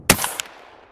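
A shotgun fires buckshot at an empty bottle: one loud, sharp blast close by, followed by a short fading echo.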